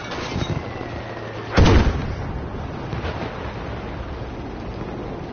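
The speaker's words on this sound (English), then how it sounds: "The bombs sound so beefy" Bombs exploding in the Battlefield V video game, with one heavy, close boom standing out against a constant rumbling battle background and fainter distant blasts afterward.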